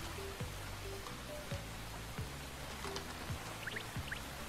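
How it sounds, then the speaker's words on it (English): Steady rain patters in the indie survival game Forager as a soft, even hiss throughout, with quiet pixel-game blips and mining tones recurring on top. "All the rain, man."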